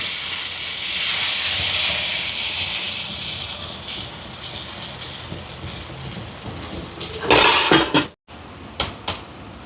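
Dosa batter spreads onto a hot pan greased with sesame oil, hissing in a steady loud sizzle for several seconds before a few sharp clinks of a spatula or pan near the end; no voices.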